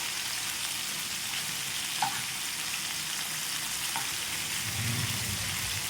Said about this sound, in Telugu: రెండు వైపులు కూడా తిప్పేసుకొని వేయించుకోవాలండి